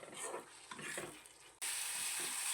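Boneless chicken curry stirred and sizzling in a pan, a continuous frying hiss with scraping strokes, growing louder and brighter partway through, no talking.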